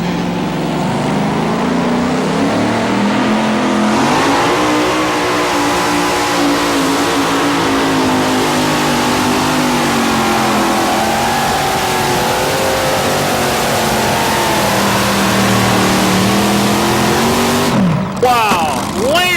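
A 3,000-horsepower drag racing truck engine roars at full throttle for a long, sustained pull, very loud and close, ending with a sudden sharp break in the sound as the motor fails.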